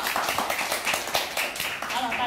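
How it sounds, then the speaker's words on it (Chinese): Audience applause at a talk event, a dense patter of many hands clapping continuously under a speaker's voice. "大家掌声鼓励。"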